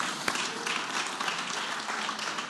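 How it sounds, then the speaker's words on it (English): An audience at a stamp unveiling claps steadily through the moment, a dense, even patter of applause heard up close with no talk over it. "You can clap"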